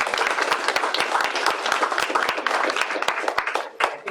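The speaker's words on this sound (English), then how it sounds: "Another round of applause for Mary Beth" A conference audience gives sustained, loud applause for a speaker, dense clapping filling the room throughout without pause.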